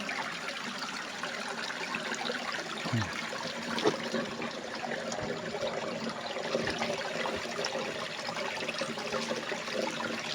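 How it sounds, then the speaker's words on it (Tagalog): Spring water gushes from beneath a large rock in a steady, continuous rush, a broad even hiss with no pauses, fairly close. "Yung ganang kalakas na tubig, tuloy-tuloy."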